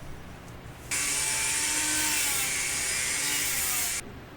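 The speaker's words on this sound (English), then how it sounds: "put your mask on, people, when grinding foam." A rotary grinder with a sanding drum works steadily through craft foam while shaping a fantasy blade prop, a continuous loud high-pitched whirring grind lasting about three seconds that starts and stops abruptly, with no talking.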